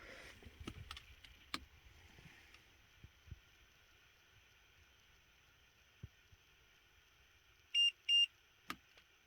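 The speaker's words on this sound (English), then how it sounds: "Well, beeped and screamed at me." A Temu TPMS tire pressure monitor gives a pair of short, bright electronic beeps near the end, close and distinct against a quiet background of faint handling clicks and thumps.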